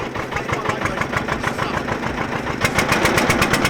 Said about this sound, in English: Lawrie also brought along Humpty, a 1500 weight liner Rough Rider with a single 659cc diesel engine